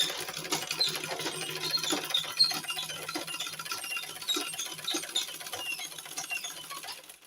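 A sewing machine runs steadily, stitching fabric for a Nigerian Zara cap, with a fast continuous whirring patter at moderate volume and no speech.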